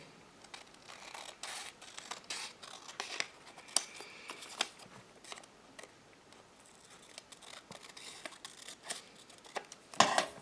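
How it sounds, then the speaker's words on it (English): Scissors snipping through paper during a toilet paper roll craft, a series of close, crisp, irregular cuts and clicks, quiet and alone with no speech. "then I squeeze my scissors"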